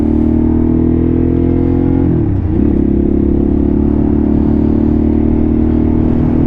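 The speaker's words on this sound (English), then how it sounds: "so far, bike's running fine" A Harley-Davidson Sportster S engine runs loudly and close by in a steady, even idle, with a brief dip in pitch partway through before it settles back to the same drone.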